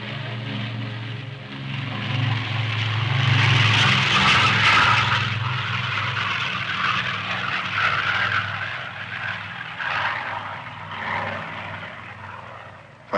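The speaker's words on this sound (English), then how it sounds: "Finally, time for takeoff." A propeller aircraft engine roars steadily at close range as the plane starts its takeoff, swelling louder in the middle and holding a broad droning tone throughout, with no voices.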